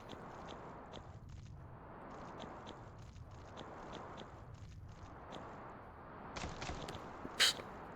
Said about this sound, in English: these are the worst footstep sounds ever